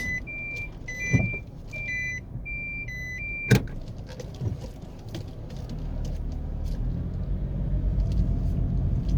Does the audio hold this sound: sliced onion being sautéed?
no